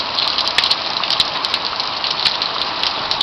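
Heavy rain pours down in a dense, steady, loud hiss of water, with scattered sharper drips and splashes on nearby surfaces throughout and no talking.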